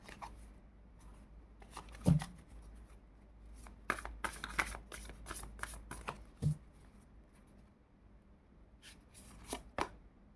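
Playing cards shuffled and riffled in short bursts with quiet gaps between them, close by and fairly soft, with no talking.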